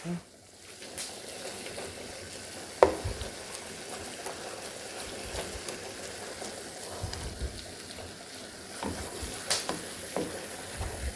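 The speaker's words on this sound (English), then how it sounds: "The hamburger's already starting to cook." Hamburger meat for spaghetti sizzles and crackles steadily in a pan at a soft, even level, with an occasional clink of a utensil and a few stirring scrapes.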